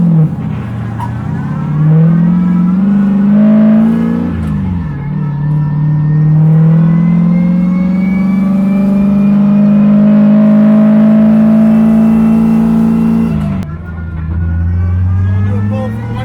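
A turbocharged LS-powered E36 drift car with a 75mm turbo revs hard and loud up close, its engine tone climbing and holding in a sustained roaring pull, dipping briefly midway and cutting off near the end.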